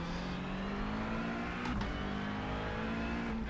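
A Porsche GT3 race car in iRacing at the Nurburgring, a steady loud engine drone with a brief shift in pitch as it goes by.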